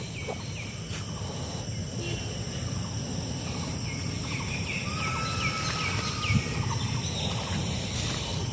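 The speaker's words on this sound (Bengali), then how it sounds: "খুব সুন্দর পাখিদের ডাক" Birds calling in a forest, with several chirps and whistled calls scattered over a constant broadband hiss of background noise.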